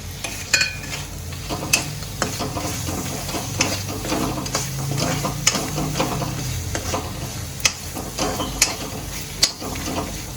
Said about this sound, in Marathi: आता यात आपण वड्या ज्या आहेत ते घालून घेते